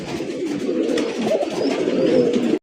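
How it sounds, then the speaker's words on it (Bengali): Rajshahi Giribaz pigeons cooing steadily in a dense, continuous flock chorus, close and fairly loud, with low burbling calls overlapping throughout. "আর কবুতরগুলো একটু চঞ্চল টাইপের"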